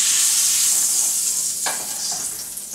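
Meat searing in a frying pan before going into a slow cooker for stout pot roast, a steady close, loud sizzle with a brief stir or scrape partway through, no talk.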